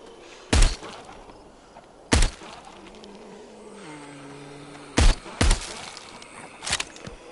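Gunshots ring out in the VR zombie shooter Arizona Sunshine, five sharp, loud single shots spaced irregularly over a low ambient background.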